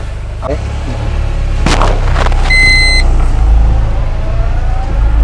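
A Tata Ace Pro Bifuel mini truck driving, its steady low engine rumble running throughout at close range, with a brief high whine and a few knocks along the way.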